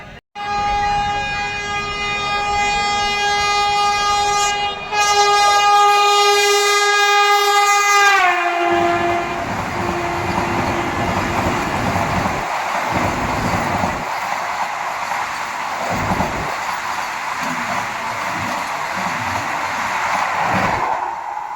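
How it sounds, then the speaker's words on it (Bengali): A train horn blares loudly for several seconds, then a Vande Bharat express train roars past nearby with a steady rushing rumble and rattling wheels. "আসছে ভাই বন্দে ভারত, দেখে নাও"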